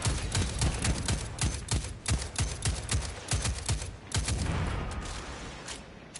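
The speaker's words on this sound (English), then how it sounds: "I was supposed to just look down and shoot." A rapid string of video game gunshots, roughly a dozen sharp cracks fired in an uneven quick rhythm, fairly close and moderately loud, tapering off near the end with no talk over them.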